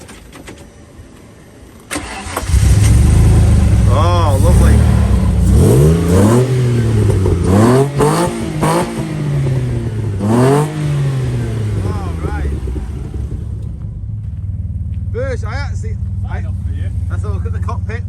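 A hillclimb car's engine cranks and catches, then revs repeatedly in loud, close rising and falling bursts before settling to a rough idle, with a person briefly speaking.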